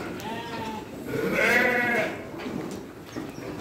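Sheep and young lambs on a livestock fattening farm bleat, one prominent drawn-out call swelling in the middle over fainter bleats from the flock nearby.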